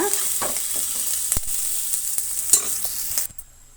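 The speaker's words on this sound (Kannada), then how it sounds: "ಕೊತ್ತಂಬರಿ ಸೊಪ್ಪನ್ನು ನಾವು ತುಂಬ ಹೊತ್ತು ಫ್ರೈ ಮಾಡೋದು ಬೇಡ ಸುಮ್ಮನೆ ಆ ರೀತಿ ಕಲಸಿ ಬಿಟ್ಬಿಡೋಣ" Coriander leaves are stirred in a hot pan, a continuous close sizzle with scraping stir strokes and a few sharp clinks before it cuts off abruptly.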